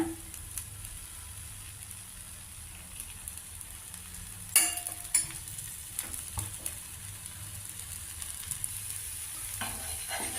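A millet dosa cooking on a pan after a spoon of oil is added, a faint steady sizzle that flares louder with crackling spatter about midway, then settles to a low hiss, no voices.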